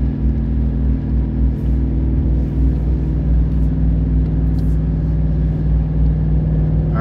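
Gas GMC Sierra 2500 HD truck engine laboring steadily up a steep grade while towing a travel trailer, a loud, continuous low rumble with a sustained drone and no talking.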